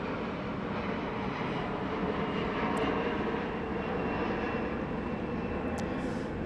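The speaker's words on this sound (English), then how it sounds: "I'm going to let another plane go overhead." A fixed-wing airplane passes overhead, a steady, broad engine roar that stays loud and fairly constant throughout, with no talking over it.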